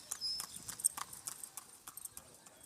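Horse hooves clip-clop in a steady, even rhythm on a hard surface, moderately close against a low background of outdoor noise.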